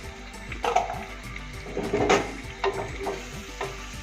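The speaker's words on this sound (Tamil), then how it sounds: "போட்டு நல்லா ஃப்ரை பண்ணிக்கலாம்" Chicken pieces for chicken sukka fry in oil with mashed tomato over a low flame, making a close, soft sizzle with a few louder spatters and stirring knocks; no voices.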